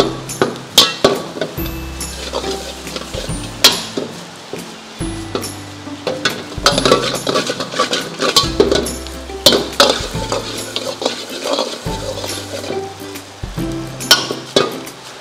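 Jallicut porotta frying in a pan while being stirred: a steady close sizzle broken by repeated loud scrapes and metallic clinks of a spatula against the pan, with no voices.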